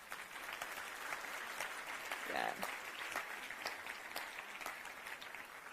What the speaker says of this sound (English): give a warm round of applause for yourself and for each other